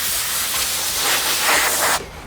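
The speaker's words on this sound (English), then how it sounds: "We'll just blow the dust off with some compressed air." Compressed air blasting dust off bare metal on a Ford Econoline Club Wagon body panel, a steady loud hiss lasting about two seconds before cutting off sharply.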